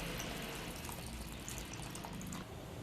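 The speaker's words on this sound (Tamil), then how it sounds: "இப்போ நம்ம புளி தண்ணியை ஊத்திடலாம்" Tamarind water for horse gram rasam pours steadily into a pan, a soft continuous splashing trickle, faint and alone.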